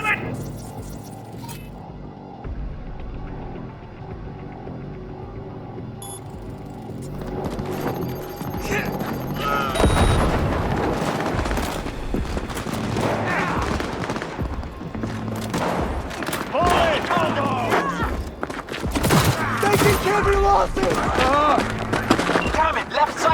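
Chaotic Cyberpunk 2077 battle with repeated gunfire bursts and explosions building in intensity over a long stretch, mixed with music and shouted voices throughout.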